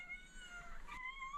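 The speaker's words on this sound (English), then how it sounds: "Okay, so the kitty cats are there." Kittens meow inside a van in a thin, high, drawn-out cry, faint and close over a low background hum.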